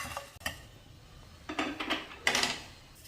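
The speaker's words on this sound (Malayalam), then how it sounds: "എണ്ണയൊന്നും ചേർക്കണ്ട, ഡ്രൈ ആയിട്ട് വറുത്തെടുക്കാം" Coriander seeds dry roasted in a pan over a low flame, with several short bursts of scraping and clinking as the seeds are stirred against the metal, and quiet pauses between them.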